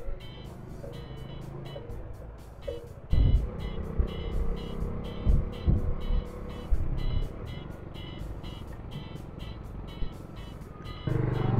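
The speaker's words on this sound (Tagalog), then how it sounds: "Medyo traffic talaga sa part na to." Road traffic on a rainy expressway rushes past, with tyre hiss on wet pavement, rumbling vehicles and a few louder thumps and surges, continuous and fairly close throughout.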